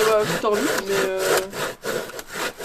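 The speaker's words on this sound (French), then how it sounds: "C'est la première fois que je scie." A handsaw rasps through wood in steady back-and-forth strokes, close by, with a few brief voice fragments mixed in.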